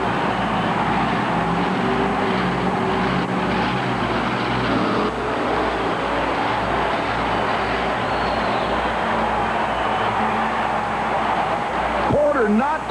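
A 1991 monster truck engine roars through an S-shaped course in an indoor arena, loud and continuous with shifting revs, under steady announcer-style talk and crowd din.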